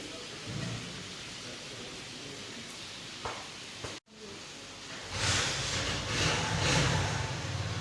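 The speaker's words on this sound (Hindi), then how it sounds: "बारिश इतनी तेज़ हो रही है।" Heavy monsoon rain pours down steadily with rumbling thunder, a constant hiss that swells louder in the second half after a brief dropout.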